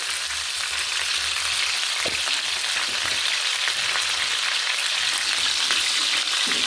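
Chicken pieces fry in a generous amount of hot oil for biryani, giving a dense, steady sizzle with occasional crackles and pops, close and constant with no voices.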